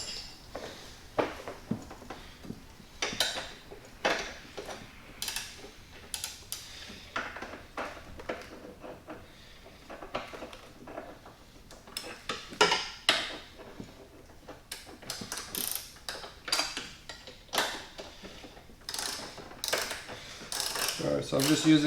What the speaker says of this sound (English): I'm just using a 18mm wrench over here, 18mm socket on this side, and just tightening it down